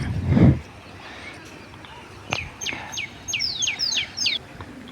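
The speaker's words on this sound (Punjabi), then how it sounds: "ਚਿੜੀਆਂ ਦੀ ਆਵਾਜ਼ ਚਿੜੀਆਂ ਚੀਂ ਕਰਦੀਆਂ" A low thump, then a sparrow gives a quick series of sharp, bright chirps, close and clear, against a quiet background at a gurdwara.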